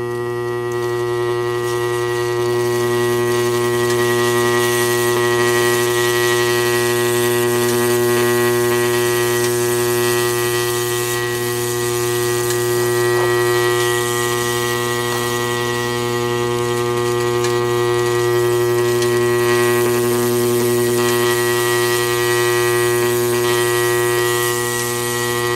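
A Fischer arc lamp running on battery power with battery carbons gives off a constant, even electrical hum and buzz, steady and unbroken throughout, with no voices.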